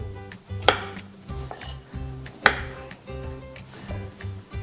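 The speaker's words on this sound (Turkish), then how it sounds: "Şimdi ilk önce brokolleri minicik minicik doğruyarak başlayacağım." A knife chopping broccoli into tiny pieces for a green apple broccoli salad, with a couple of hard, close knocks against the cutting board among softer, irregular chops.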